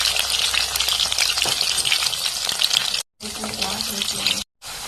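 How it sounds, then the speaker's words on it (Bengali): Potatoes sizzling and crackling in hot oil in a pan, salted while frying for a vegetarian aubergine dish; a steady close sizzle continues throughout, with two brief cuts to silence and a faint low hum near the end. "লবণ দিয়ে আলুটা ভাজিয়ে নেব।"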